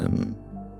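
A single short, sharp sneeze, close and abrupt, followed by a brief tail of breathy noise.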